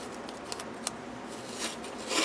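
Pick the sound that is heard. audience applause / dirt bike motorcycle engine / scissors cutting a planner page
scissors cutting a planner page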